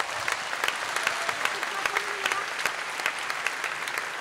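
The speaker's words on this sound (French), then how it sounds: "Oui, on peut l'applaudir." An audience at the Kids Voice Tour season finale in the Stravinski hall in Montreux applauds, with dense, steady clapping and sharp individual claps standing out, heard from a moderate distance.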